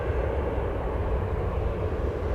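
A FedEx cargo jet taxiing at Chicago O'Hare gives a steady, continuous low jet-engine rumble with a broadband roar, unbroken and fairly distant throughout.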